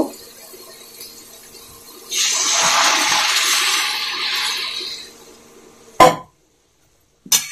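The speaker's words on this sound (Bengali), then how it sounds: "এখানে আমি উষ্ণ গরম জল দিয়েছি" Warm water is poured from a container into sautéed spices for an egg and cauliflower curry, making a steady, rushing splash for about three seconds before it stops, followed by a couple of brief knocks.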